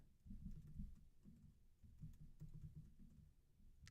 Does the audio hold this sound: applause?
no